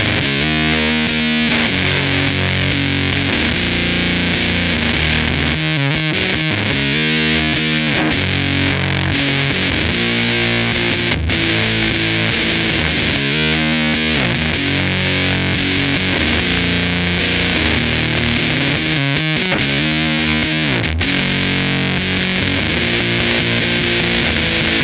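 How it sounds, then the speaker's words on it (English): Electric guitar played through a Boss TB-2w Tone Bender fuzz pedal, a Waza Series collaboration with Sola Sound, giving a loud, thick, saturated tone over a long continuous passage of riffs and chords, with no voices. "we're checking out the Boss Waza Series Tone Bender, the TB-2w, which is a collaboration between Boss and Sola Sound."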